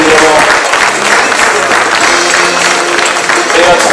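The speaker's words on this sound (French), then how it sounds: "merci pour les applaudissements" Loud, close applause from a crowd at a presentation of racing skippers, dense clapping filling the whole stretch with crowd voices blended in underneath.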